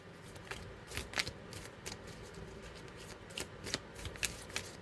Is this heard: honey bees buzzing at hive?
no